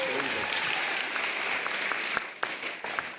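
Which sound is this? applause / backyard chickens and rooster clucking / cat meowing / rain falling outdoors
applause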